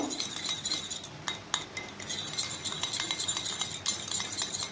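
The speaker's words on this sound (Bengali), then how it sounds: "এবারে চামচের সাহায্যে ভালোভাবে মিশিয়ে নেব" A spoon clinks and scrapes against a bowl while stirring oil with baking soda, giving rapid, irregular metallic taps and rattles up close over a low background hiss, with no talking.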